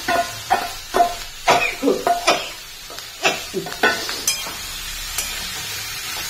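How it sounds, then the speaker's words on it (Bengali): Pieces of previously fried cauliflower go into a hot pan and get turned over, making a run of loud, close scrapes and clatters over a hissing sizzle that eases toward the end. "এই যে ভেজে রাখা কপিগুলো দিয়ে দিলাম।"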